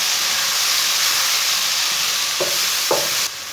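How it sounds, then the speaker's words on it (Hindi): Chopped tomato and slit green chillies fry in a hot pan, giving a loud, steady sizzle and hiss with a couple of brief stirring scrapes near the end. "2 मिनट तक भून लेंगे टमाटर को।"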